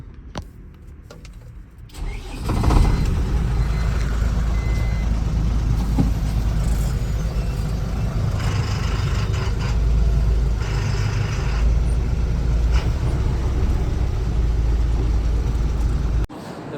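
A large truck engine starts after a quiet moment, then runs with a steady, loud low rumble and idle throughout.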